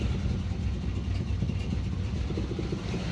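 A 1970 Chevelle engine idles low and just barely keeps running, giving a steady, dense rumble that continues unbroken throughout.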